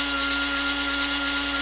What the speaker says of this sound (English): the stone tears the foam up less, but it also takes a little longer to get the shape